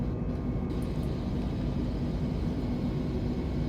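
An Airbus A320 climbing after takeoff in Flight Simulator 2020 gives a steady, loud engine roar that holds constant throughout, with no speech.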